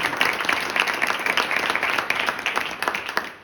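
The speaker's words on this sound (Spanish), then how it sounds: "os pido por favor un fuerte aplauso para él" Audience applause at a book presentation in Madrid, a dense steady patter of many hands clapping throughout, moderately loud and close, with a few scattered voices under it.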